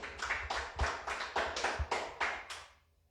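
Church congregation clapping in praise, about ten slow, separate bursts of claps in an uneven rhythm, fairly close and unaccompanied, fading out at the end.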